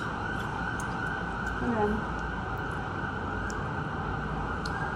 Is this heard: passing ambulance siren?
yes